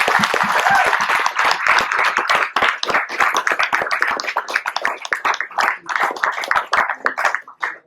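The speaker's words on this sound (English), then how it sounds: "if you could join me in another round of applause for Henry" Audience round of applause at a youth conservation talk, a dense burst of many hands that thins into scattered individual claps and fades out toward the end.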